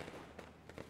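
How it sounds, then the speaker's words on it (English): Firecrackers going off in the video game Nine Sols, a few sharp crackling bursts over a steady game soundscape, moderately close. "Firecrackers?"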